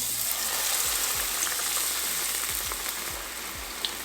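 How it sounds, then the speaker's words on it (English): Battered fish sizzles and crackles steadily in a deep fryer, a close, continuous bubbling hiss with no voices. "remove all the excess batter before putting it in the fryer"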